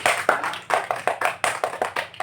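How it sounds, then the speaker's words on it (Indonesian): A small group of women in an Indonesian community health session clap together in a brief burst of quick, irregular hand claps, fairly close and clear with no talk over them. "Kita beri tepuk tangan, aplaus."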